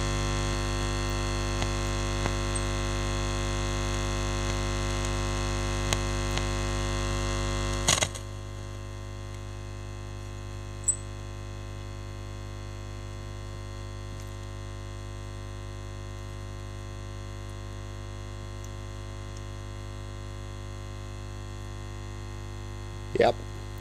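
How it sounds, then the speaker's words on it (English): An Orion R545A valve radio run at full 220-volt supply gives a loud, steady mains hum. Partway through, a click cuts it to a quieter hum that carries on to the end, with a few faint ticks and a short burst near the finish. "A very loud hum."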